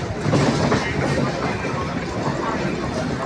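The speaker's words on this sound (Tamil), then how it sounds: "மக்கள் ட்ரெயின் வந்துருக்கு" A train rolls into Venkatagiri railway station, a loud, dense rumble with steady clattering of wheels close by, filling the whole moment without a break.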